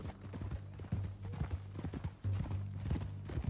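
Horse hooves clip-clop at a steady walking pace in the Red Dead Redemption 2 video game, close and clear, with a faint snort or whinny and light ambient noise.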